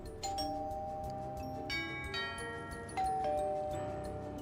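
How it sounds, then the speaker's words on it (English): Overlapping bell chimes and dings from the SimCity 4 city-building game ring in layered, sustained tones, with new rings entering at intervals over a steady game background. "Get ready for the ring bell"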